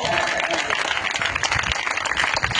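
Loud, sustained clapping from a congregation at a gospel healing meeting, dense and steady from start to finish with a hint of voices mixed in.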